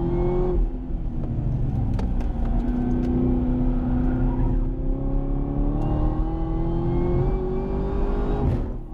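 A Chevrolet Camaro ZL1 engine revs up hard and loud nearby, its tone climbing steadily through a long pull with a brief lift-off partway through, heard alone without talk.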